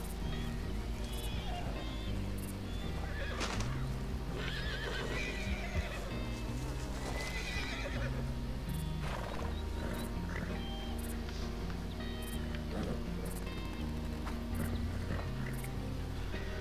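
A horse in the Red Dead Redemption western video game whinnies loudly while hooves clip-clop, over a dense, steady layer of game sound that runs through the whole stretch.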